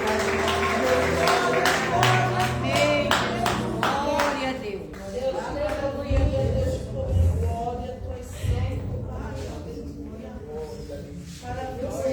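A church congregation claps in rhythm at a Wednesday prayer-circle service, sharp repeated claps strongest in the first few seconds, mixed with voices and music that carry on after the clapping eases.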